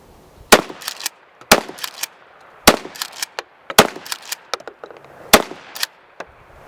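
A DA Grizzly 870-clone 12 gauge pump shotgun firing target loads outdoors, five sharp loud blasts spaced about a second apart, each with a short echoing tail and clacks of the pump action between shots.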